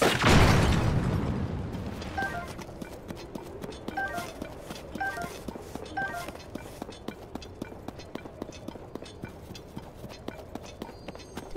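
A loud bomb explosion booms at the start inside a cave in the video game Zelda: Tears of the Kingdom, fading out as rapid, rhythmic clopping footsteps carry on steadily with no talking.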